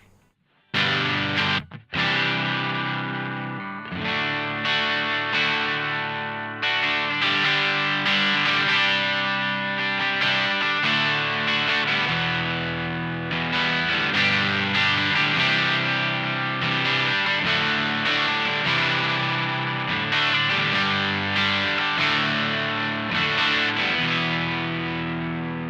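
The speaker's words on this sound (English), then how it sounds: "The first thing I'll show you is the overdrive." Electric guitar strummed through an overdrive pedal, crisp and lightly driven, sustained chords ringing loud and close with brief gaps, playing alone for about twenty-five seconds.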